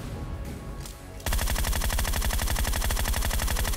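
Rapid automatic gunfire in PUBG Mobile, loud sustained bursts starting after a quieter opening and continuing steadily to the end.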